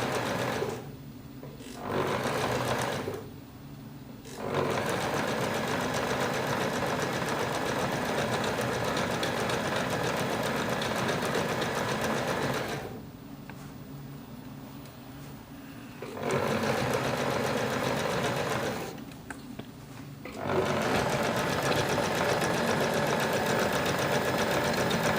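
A sewing machine stitches around all four fabric edges in a steady, loud mechanical chatter, running in long stretches broken by a few brief pauses.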